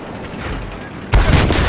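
A grenade blast in a video game firefight, a sudden loud booming burst with dense crackling gunfire after a stretch of rumbling noise.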